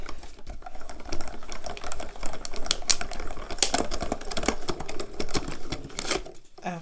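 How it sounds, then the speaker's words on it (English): A Diamond Press die cutting machine feeds a die through for a baby-themed card, giving a run of rapid mechanical clicks and rattling ticks close up, steady throughout and stopping abruptly near the end. "I am just gonna run this last die cut through"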